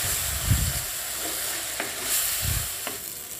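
A spoon stirs bitter gourd curry with chilli powder and salt in a sizzling pan, with a couple of soft scraping strokes over a steady frying hiss.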